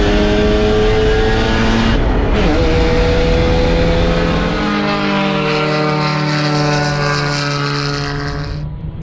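A Mazda RX-7 engine revs high and roars loudly past on a track, its pitch sliding downward as it moves away, leaving a fading mechanical drone.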